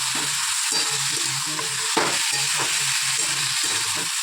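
Poppy seeds fry in a hot pan with a steady, dense sizzle and crackle, close and continuous, broken by soft scraping stirs.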